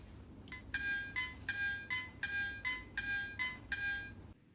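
A wireless doorbell receiver's speaker rings out a repeated electronic chime, eight or so evenly spaced bright tones in a steady rhythm, loud and close over faint background hiss, with no voices.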